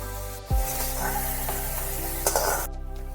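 Salted eggplant slices fry in mustard oil in a wok, giving a continuous bright sizzle. A low thud of the pan opens it, and steady background music plays throughout.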